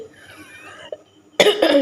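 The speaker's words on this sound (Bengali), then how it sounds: "এখন একটু কাশিটা আছে।" A woman with a cold coughs once, sharply and close, after a stretch of quiet room tone. The cough is a loud burst with a short second pulse.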